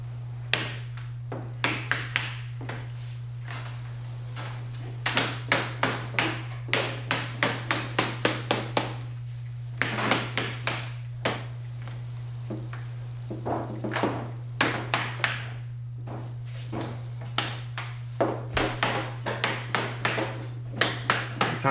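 Rapid bursts of sharp tapping blows on window trim strips being seated during insulated glass replacement, grouped in quick runs with short pauses, over a steady low electrical hum.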